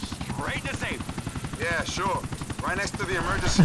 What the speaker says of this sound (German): Und schon fliegt der andere in dem Helikopter weg.